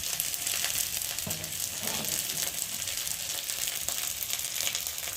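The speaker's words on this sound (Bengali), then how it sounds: "ভালো করে ভাজলে ততক্ষণ আমি এদিকে খিচুড়িটা একটু নেড়ে দিই" A pot of khichuri being stirred while spices fry, a continuous sizzle with scraping and stirring noises over it, close and steady throughout.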